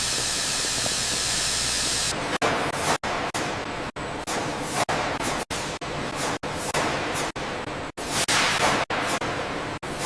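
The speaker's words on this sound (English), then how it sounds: "From the colossal vats, rich, sweet steam ascends," Rich, sweet steam rises from colossal strawberry cooking vats in a vast factory hall, a steady loud hiss broken by a series of sharp clanks and brief cutoffs recurring roughly every half second to second.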